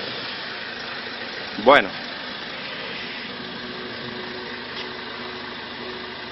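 A truck engine idles in a low, steady rumble throughout, with a brief sharp sound early on and a short spoken word heard over it.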